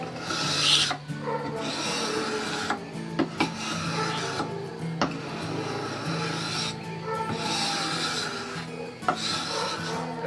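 A rasp worked along a wooden walking cane clamped in a vise, repeated long scraping strokes in a steady back-and-forth rhythm with short gaps and occasional sharp knocks, close and loud.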